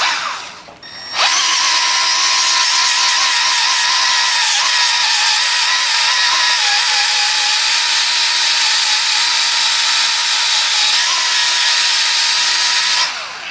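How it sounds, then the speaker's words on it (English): Milwaukee M12 variable speed polisher fitted with a white ROLOC bristle disc, cleaning an aluminum intake manifold surface; a loud, steady high-pitched whir with a gritty scrubbing edge starts abruptly after a second, runs continuously, then stops at the end. "now I'm going to use the white ROLOC bristle disc to clean up the aluminum surface"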